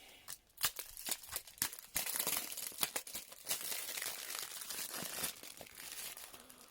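Plastic wrapping being pulled off a Blu-ray case by hand, a run of quiet, close crinkling and tearing rustles in irregular bursts.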